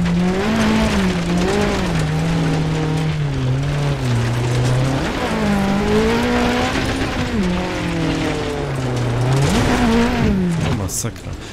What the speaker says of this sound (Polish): Taki dźwięk silnika przetłumiony trochę, nie?